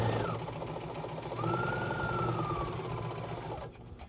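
A sewing machine stitches fabric for a mini tote bag, a steady continuous motor whir running for several seconds at close range before cutting off near the end.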